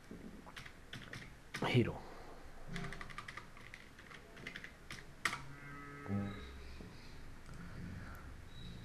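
Keys clatter on a computer keyboard while entering data in an Excel spreadsheet, with scattered bursts of close, crisp clicks and a louder cluster of keystrokes, with someone speaking briefly.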